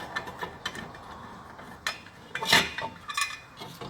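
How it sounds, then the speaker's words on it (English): Small metallic clicks and squeaky twisting sounds come close and intermittently as an air filter's top wing nut is turned loose, with a couple of sharper clanks. "You just undo the wing up top on it."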